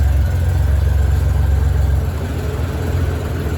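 A 1997 Honda Goldwing GL1500 engine idling smoothly at about 800 RPM after its carburetors are synchronized, a steady, loud, low rumble with an even pulse, close and uninterrupted.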